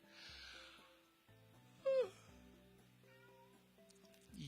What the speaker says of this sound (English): now you're sitting here meowing at me